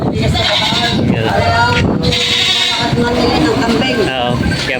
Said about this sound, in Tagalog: Oo, kambing.